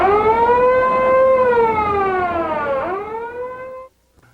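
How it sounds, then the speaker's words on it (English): A loud wailing H2S gas detector alarm tone holds steady, dips, rises again and then cuts off abruptly, leaving near silence. "these sensors are set to monitor H2S and set off alarms when they detect small levels of H2S"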